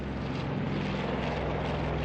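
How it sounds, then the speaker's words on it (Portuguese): Warplanes in a Pacific War naval battle drone overhead, a steady, loud propeller-engine roar holding constant without a break. "Os aviões sobrevoavam nossas cabeças e as armas não os detinham."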